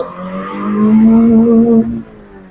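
A Honda City Type-2 car pulls hard along a straight road, its engine note climbing in a loud, close, steady tone for about two seconds before easing off, heard alone without talk.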